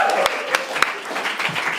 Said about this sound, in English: Let's give a big round of applause for our friend here.